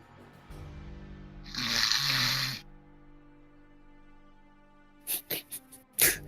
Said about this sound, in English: Rudest snoring ever